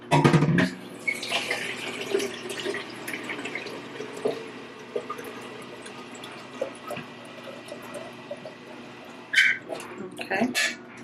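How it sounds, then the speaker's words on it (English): Tap water runs into a new tea kettle in a steady, close hiss and patter that lasts most of the stretch, with a few clunks near the start and the end. "So I'm gonna add some water."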